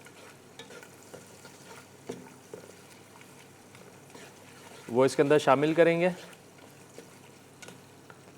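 Onion browning with minced meat and ginger-garlic paste in a pan, a soft sizzle and stirring under a voice, rising to a louder burst of frying and stirring midway before settling back.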